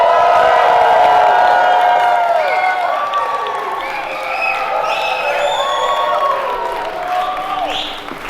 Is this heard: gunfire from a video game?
no